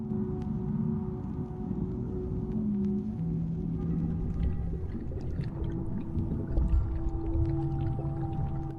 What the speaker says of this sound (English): It is the fin whale, the graceful giant of the sea.